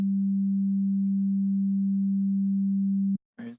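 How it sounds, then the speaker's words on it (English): A synthesizer sub oscillator plays a pure sine wave, a steady low tone held unchanged for about three seconds before it stops abruptly. A short buzzy synth note follows. "turn on the sub. It's just a sine wave."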